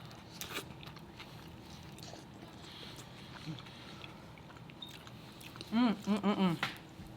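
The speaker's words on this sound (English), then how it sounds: "I'm gonna eat half before I open my drink." Quiet bites and chewing on a birria crunchwrap, soft crunches and mouth sounds up close, with a short hum of voice near the end.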